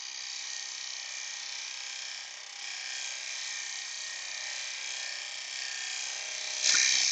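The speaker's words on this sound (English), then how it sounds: "Let the lathe get up to speed." A wood lathe turning a small laburnum bowl spins at speed, giving a steady high whine and hiss that holds evenly, then a sharp scraping bite near the end as a tool touches the wood.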